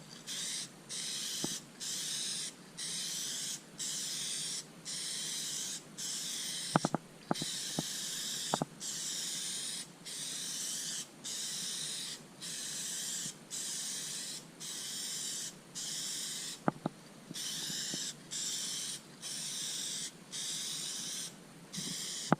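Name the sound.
spray painting a trim panel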